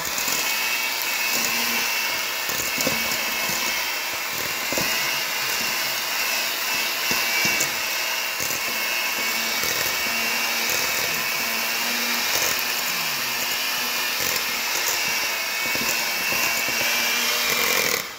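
Cookie dough for Nestlé chocolate chip cookies being beaten with eggs by an electric mixer, a steady loud motor whir running throughout with small fluctuations.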